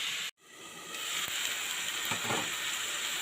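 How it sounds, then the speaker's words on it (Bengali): Bathua greens fry with onion and garlic in a pan, making a continuous soft hiss and sizzle after a brief cut at the start, with faint stirring scrapes. "ভালো করে নাড়াচাড়া করে আমি পেঁয়াজ রসুনের সাথে শাকটা মিশিয়ে নিচ্ছি"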